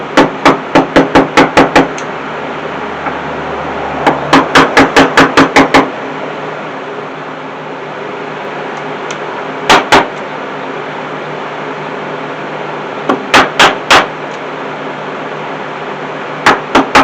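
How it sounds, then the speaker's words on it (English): A wooden mallet strikes chisels in quick bursts of sharp, loud taps, clusters of blows separated by pauses, close by in a quiet woodworking shop. "So these are the two chisels that we'll be using, along with a good mallet."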